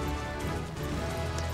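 Rain falling in Final Fantasy XIV, a steady dense hiss of drops on surfaces, loud and continuous without pause.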